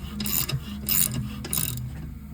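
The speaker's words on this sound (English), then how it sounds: "Tap a few threads in." A thread tap cuts new threads into a metal brake caliper during a repair, heard up close as three rhythmic, gritty scraping turns with brief pauses between them, and no talk.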